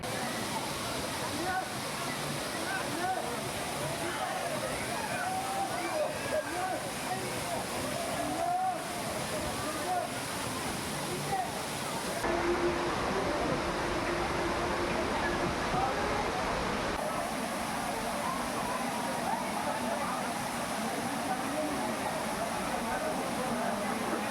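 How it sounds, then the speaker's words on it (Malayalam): Steady roar of a monsoon-season waterfall in Idukki fills the whole stretch, a broad continuous wash close by, with voices faintly audible beneath it. "മഴക്കാലത്ത് മാത്രമുള്ള വെള്ളച്ചാട്ടം"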